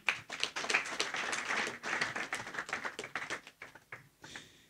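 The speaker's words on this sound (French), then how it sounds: "On applaudit." Audience at a gospel talent casting ceremony claps steadily, a dense patter of hand claps that thins toward the end, with no talk over it.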